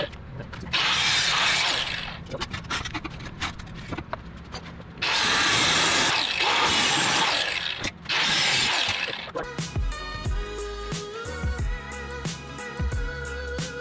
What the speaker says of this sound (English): Let's do some grinding.